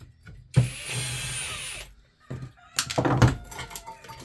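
A power drill backs screws out of a ceiling fan being scrapped, with two short whirring bursts about a second long each, close by, separated by a brief pause and light handling noise.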